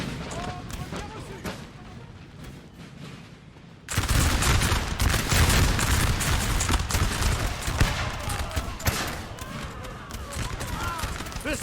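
Musket volleys and artillery from a Napoleon Total War 3 battle against French lines. Dense, crackling fire rolls on continuously and swells sharply louder partway through, with a voice talking over it.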